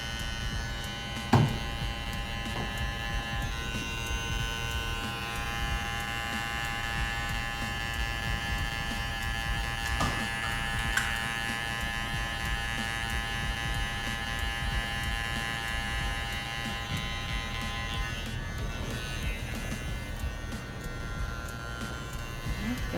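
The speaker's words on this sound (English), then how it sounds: "And at the ends, that's when you can start using more of your clipper." An electric hair clipper buzzes steadily through a basic men's haircut, a close, continuous hum with small clicks and faint shifts as it moves through the hair.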